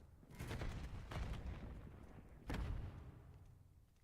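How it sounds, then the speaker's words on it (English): Thuds and rumbling bursts from a Call of Duty Search and Destroy match at a championship event, with a heavier boom midway and fading rumble, faint and distant. "And well, that's a nade."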